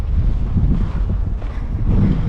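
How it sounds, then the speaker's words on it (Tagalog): Blustery wind buffeting the microphone during heavy snowfall in Finland, a steady low roar that fills the whole stretch with gusty swells and no voices. "Grabe yung snow. Malalaki. Tapos mahangin pa."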